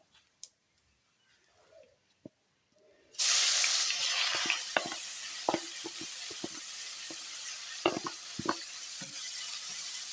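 Onion and kalonji seeds drop into hot oil and burst into a loud, steady sizzle that carries on with crackles and stirring clicks, cooking for a Bata fish curry with cauliflower and potato.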